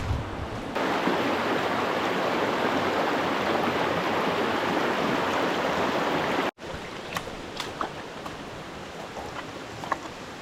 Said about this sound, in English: I heard a brook to my right.